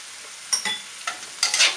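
Shredded bamboo shoots with egg being stir-fried in a pan at home, with a few scraping stirs and short bursts of sizzle, close and alone.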